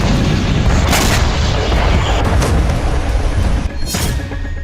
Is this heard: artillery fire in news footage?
yes